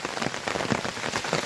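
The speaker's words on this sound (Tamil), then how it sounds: "நல்ல மழை" Heavy rain pours down steadily during a mountain walk near Thandikudi, a dense continuous hiss with close drops spattering on surfaces and no voices.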